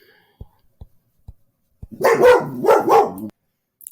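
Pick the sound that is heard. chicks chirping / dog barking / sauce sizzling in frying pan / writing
dog barking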